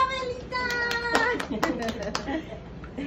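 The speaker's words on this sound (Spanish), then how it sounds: "apláudale que sí se lo merece" Several scattered hand claps ring out while voices talk and sing over them, a brief patter of applause rather than a full ovation.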